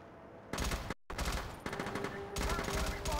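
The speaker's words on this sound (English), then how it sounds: "First enemy fire!" Enemy gunfire rattles through a SOCOM 3 combat mission, with sustained automatic bursts and overlapping rapid shots that break off briefly and then resume, loud and dense, with faint game voices underneath.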